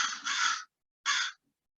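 A crow caws loudly in a backyard: two harsh calls, the first long, the second shorter after a brief pause, close by and with no talking.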